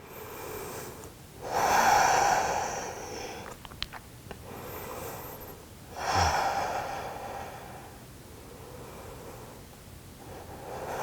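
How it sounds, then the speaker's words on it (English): Slow, deep breaths during a Pilates mat exercise: two long, audible inhale-exhale cycles with soft airy rushes, close and fairly quiet, with faint rustling between. "And taking a few deep breaths here."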